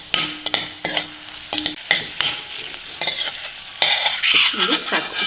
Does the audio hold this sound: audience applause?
no